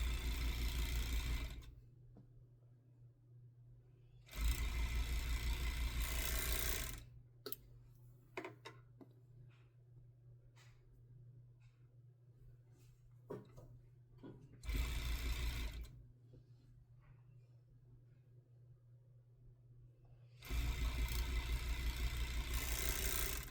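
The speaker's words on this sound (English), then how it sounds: "we're gonna sew along the side seams right here" Three bursts of a sewing machine stitching the side seams of a bodysuit, each a loud steady whir lasting a few seconds, separated by quiet handling clicks and fabric movement.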